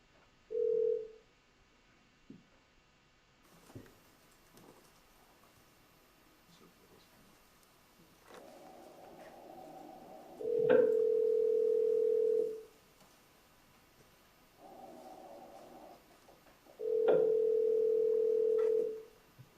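A telephone call played aloud in a courtroom rings through toward voicemail, with a steady tone and then two long, loud ringback bursts separated by pauses, over a quiet room background.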